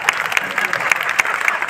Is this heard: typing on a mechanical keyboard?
no